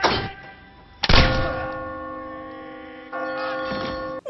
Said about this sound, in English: how did she know that the clock was going to strike the first bell of the hour